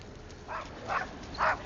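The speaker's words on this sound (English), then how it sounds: "That dog don't like me, huh? Just keep barking at me." A dog gives three short barks, faint and some distance off, with a quiet outdoor hush between them.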